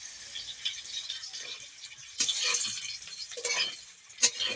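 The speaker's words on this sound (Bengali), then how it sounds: "ভালোভাবে এপিট ওপিট লাল করে ভেজে নেব" Potato pieces shallow-frying in hot oil in a pan, a soft continuous crackle with a few louder bursts of stirring and spatter near the end, close and without talk.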